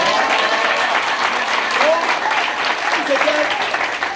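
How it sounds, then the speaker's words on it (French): Steady applause from a church congregation at a mission service in Lomé, Togo, filling the room continuously throughout without a break. "Acclame Jésus pour ça."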